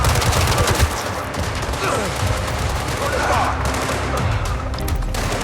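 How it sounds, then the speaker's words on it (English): Sustained automatic gunfire from the mobile game Gangstar Mirage City, a dense continuous rattle of rounds that stays loud and close throughout with no pauses. "Sending rounds downrange."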